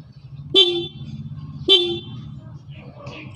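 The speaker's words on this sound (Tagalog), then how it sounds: "para yung busina niya is maganito, ganito yung sounds niya" Two sharp, loud horn blasts from a Yamaha Aerox 155 motorcycle horn with an interrupter relay sound about a second apart, each a brief bright toot over a steady idling engine, followed by faint background noise.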